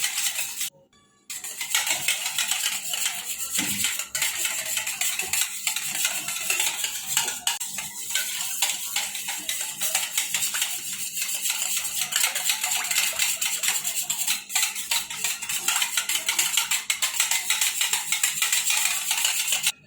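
Rapid, continuous clinking of a utensil whisking gram flour sev batter in a bowl, a fast metallic rhythm that keeps going for a long stretch.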